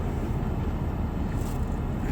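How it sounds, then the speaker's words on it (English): Inside a moving car in late-morning traffic, a low steady road rumble and engine drone fill the cabin, quiet and continuous, with no talking. "I guess you would call it brunch time traffic."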